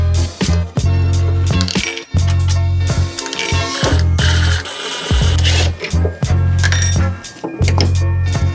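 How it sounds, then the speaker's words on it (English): A screwdriver works loose the Torx screws and worm clamps on the MAF sensor of a neglected Subaru STI, giving close metallic clicks, clinks and ratcheting amid handling noise, without talk. "We need to unscrew our MAF sensor as well as 2 worm clamps"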